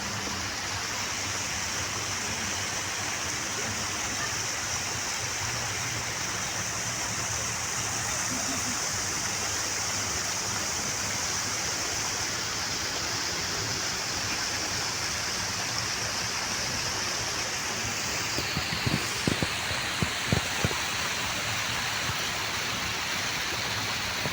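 Water rushes and flows steadily without pause in Khalifa Park in winter, a constant loud roar, with a few brief knocks near the end.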